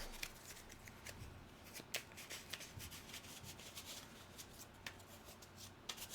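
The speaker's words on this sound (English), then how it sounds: "Got to shuffle these so we get new initiative" Playing cards being shuffled during a solo tabletop miniatures game, giving soft repeated riffling and rubbing sounds with a few sharper snaps, fairly quiet and close with no talking.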